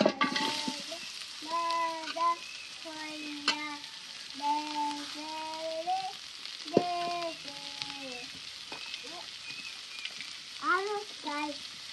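Steady oil sizzle from food frying in a pan, a continuous hiss running throughout while voices talk over it.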